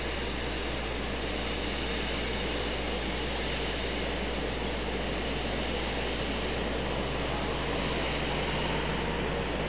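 A CRJ regional jet arrives at Raleigh Durham International at night, its engine noise a steady, distant broadband roar with a low hum underneath, holding evenly throughout with no talking.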